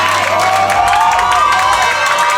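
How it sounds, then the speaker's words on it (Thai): Dense crowd noise with cheering and clapping blended together at a beauty pageant final, steady and loud throughout, with a tonal sweep running over the top. "ปรบมือนะครับให้กับท็อปไฟของเราด้วยนะครับ"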